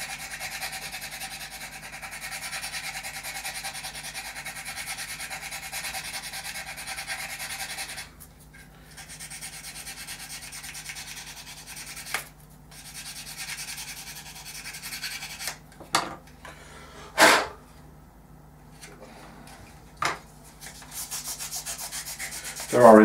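Sandpaper rubs along the inboard leading edge of a model aircraft wing in long, steady close strokes, broken by short pauses and a few sharp scrapes and knocks near the end.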